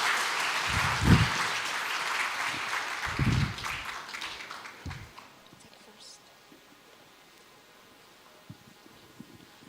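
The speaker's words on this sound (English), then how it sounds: "Please give a round of applause to Alfonsius." Audience applause greets a presenter at the Falling Walls Lab Indonesia 2024 pitch event. It is dense and fairly loud for the first few seconds with a few low thumps, then fades into a quieter room with faint background noise.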